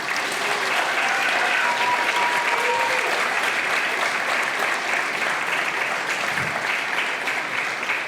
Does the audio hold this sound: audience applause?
yes